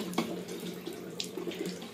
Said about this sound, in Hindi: इसका पानी ठीक आ रहा है